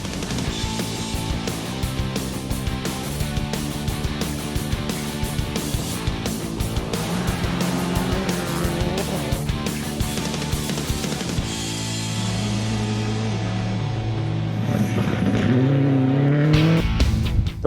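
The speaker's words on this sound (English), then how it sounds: "their unstoppable Mitsubishi Evo X hammered down on stage 13" A Mitsubishi Evo X rally car flat out on a gravel stage of an international rally in Ndola, Zambia, its engine roaring continuously with rising and falling revs and gear changes, loud and close throughout.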